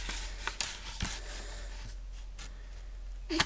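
A blade scores a fold line into a paper card, making faint, soft scraping strokes with a few sharper ticks and taps, close and quiet with no speech.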